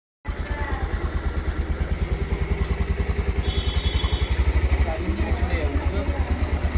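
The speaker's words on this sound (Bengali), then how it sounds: "বাইকের আওয়াজ পেয়েছে" A motorcycle engine runs close by with a steady, loud, rhythmic throb that holds for the whole stretch, starting abruptly at the beginning.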